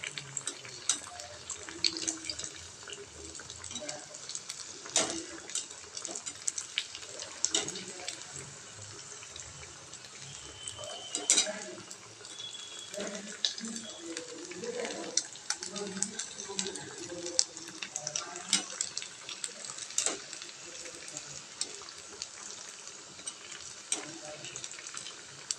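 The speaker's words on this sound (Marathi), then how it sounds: "तर दोन्ही साइडने वडे छान आपल्याला तळून घ्यायचे आहेत।" Sabudana vadas deep fry in hot oil, giving a continuous crackling sizzle with scattered bubbling pops and a few utensil taps, fairly quiet and close, while a voice talks now and then.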